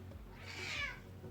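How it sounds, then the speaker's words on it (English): A chubby cat lets out one drawn-out, fairly quiet meow that swells and fades over about half a second, set against low background noise. "That's a chubby cat."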